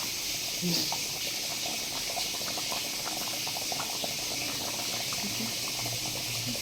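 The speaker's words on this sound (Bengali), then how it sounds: "টকবক করে ঝোলটা ফুটছে, টকবক" Tilapia fish curry broth with potatoes boiling, a dense continuous bubbling and burbling, close and steady with faint background sounds and no clear talk.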